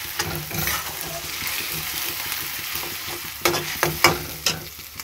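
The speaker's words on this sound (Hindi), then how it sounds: "इस तरह चला देंगे इसे, थोड़ा सा इसको पकने देंगे।" Onions frying with chili in a pan, a steady sizzle with a run of distinct spoon scrapes and knocks toward the end, heard close and alone.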